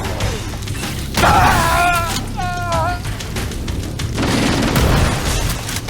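Gunfire and booming explosions fill a fight against an enemy in Halo: Campaign Evolved, loud and continuous, with chirping alien creature calls rising over the blasts.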